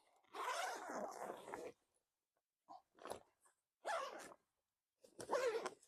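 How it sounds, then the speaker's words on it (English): The big double zippers on an AnglerFish bag are pulled open in several close, rasping strokes, the longest first, then shorter bursts separated by quiet pauses. "Just unzip them all the way down."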